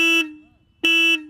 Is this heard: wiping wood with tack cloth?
no